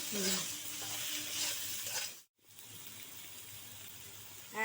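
Fish head and spices being stir-fried with salt in a pan, a close, bright sizzle with scraping stirs that cuts out briefly, then a softer, steady frying hiss resumes.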